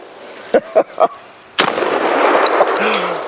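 Three sharp shots from an AK-based semi-automatic shotgun fired at a 2-liter bottle outdoors, in quick succession, followed by a louder blast and a lingering rumble with faint voices.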